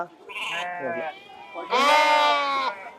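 Sheep and lambs bleat at a livestock market, two clear nearby cries, the second louder and longer, with no talk over them.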